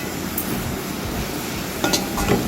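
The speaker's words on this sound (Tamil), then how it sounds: "கருவாடை போட்டதுக்கப்புறம் நல்லா பெரட்டி விடுங்க." Dried fish being stirred in a pan with tomato, a close, continuous sizzle with brief metallic scrapes and clinks near the end.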